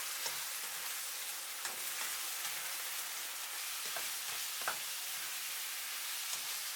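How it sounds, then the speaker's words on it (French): Pork with saté powder, fresh chili and a splash of water stirred in a frying pan, giving a steady close sizzle with occasional scraping strokes of the utensil, no voices. "Je remue pendant 1 minute."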